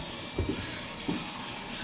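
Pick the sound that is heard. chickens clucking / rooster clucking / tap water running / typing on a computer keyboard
tap water running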